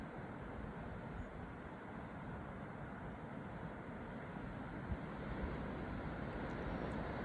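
Ocean waves wash in a continuous, soft, broad surf rumble with some wind noise, steady and even throughout with no distinct breakers and no voices.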